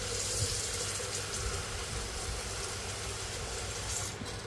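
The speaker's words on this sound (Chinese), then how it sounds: "我们呢就放一些水，去让它自动清洗这个机器哈" Water runs steadily into a Thermomix bowl to fill it for self-cleaning, a constant close rushing pour with no pauses.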